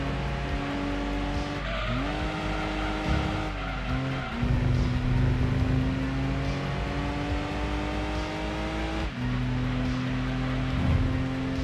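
Gran Turismo 2 race car engine climbing an uphill stretch, a steady loud drone whose pitch dips and rises with gear changes, alongside brief tire squeals and a continuous rumbling backdrop.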